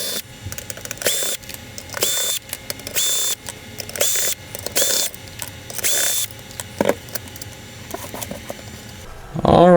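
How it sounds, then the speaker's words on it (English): A screwdriver turns out screws from the casing of an AV Famicom console in a string of sharp, clicking ratchet-like bursts, separated by brief pauses, loud and close. "we have 1, 2, 3, 4, 5, 6, 7 screws that we need to rip out of this thing"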